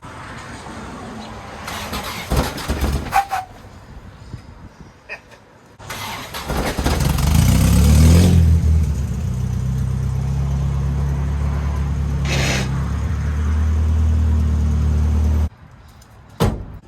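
A car that has just had its automatic gearbox swapped for a 5-speed manual cranks and fires up, its engine idling and revving loudly for several seconds, with door clunks before and after and a brief drop-off near the end.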